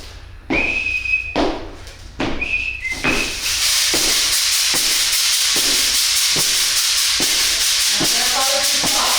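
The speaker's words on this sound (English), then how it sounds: "The whistle is the one who tells you how to start and how to stop and the speed that we're gonna do this drumming thing" The leader of a Maracatu drum group blows a few sharp, loud, whistle blasts to signal the start of drumming, then a dense rush of drums and rattles follows, and no one speaks.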